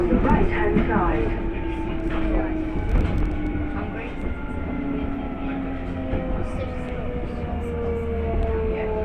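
A London Underground tube train runs between stations with a continuous rumbling roar and rising and falling motor whine. The sound is heard from inside the carriage and stays steady, with faint rattles and squeals.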